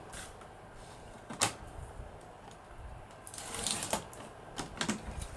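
A strip being cut off the bottom of a sheet of vellum paper in a papercraft setting, heard as several close, crisp cutting sounds and paper rustles in an irregular rhythm, with no talking.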